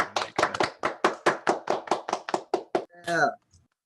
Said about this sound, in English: everybody clap if you can, or just do Zoom reactions if you can